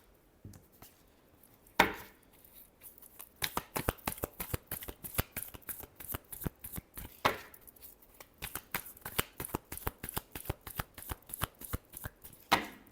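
Tarot cards shuffled by hand in a long run of quick, crisp riffling bursts, close and fairly loud, with a couple of sharper snaps.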